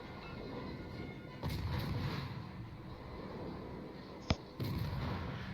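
Naval gunfire rings out in a World of Warships battle as a destroyer engages a Jutland: a couple of sharp booming salvos over a low rumbling background, with one bright crack near the end.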